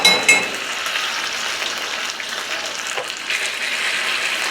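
Korean-style BBQ sauce of ketchup and gochujang is stirred in a bowl, a steady close scraping swish with a few light clinks of the spoon at the start, and no voices.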